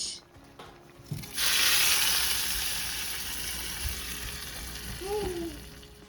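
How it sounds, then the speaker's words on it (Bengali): Hot tempering (baghar) is poured into muri ghonto curry and bursts into a loud, close sizzle that rises suddenly and then hisses steadily as it slowly fades. "এখন একটু বাগার দিয়ে দেবো"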